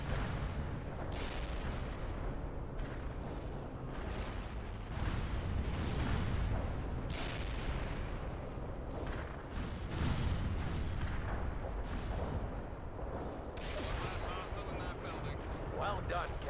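Abrams tank main guns fire in World in Conflict, a series of booming cannon blasts and gunfire that repeat every second or two, fairly quiet overall, with voices mixed in.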